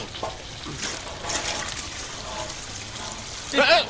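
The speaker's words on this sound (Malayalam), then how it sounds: "വെള്ളം കാണാനല്ല, ഒഴിക്കൂ." Water pours from a vessel in a home, a short steady splash and trickle under speech, ending in a louder gush near the end.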